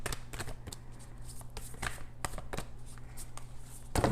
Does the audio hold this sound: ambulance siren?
no